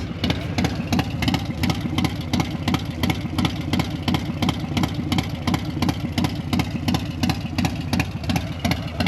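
A motorcycle with an SP Concepts Lane Splitter aftermarket exhaust idles loudly and steadily up close, around 96–97 decibels, its engine throbbing in a fast, even pulse with a deep rumbling exhaust tone throughout.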